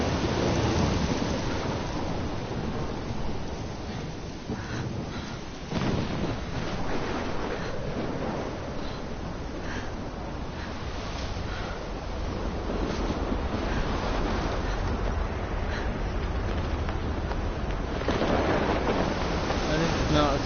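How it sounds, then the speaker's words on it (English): A storm near a lighthouse in the game Life is Strange, with constant roaring rain, wind and crashing surf and occasional deep rumbles, loud and unbroken throughout. "She's in a bit of a storm."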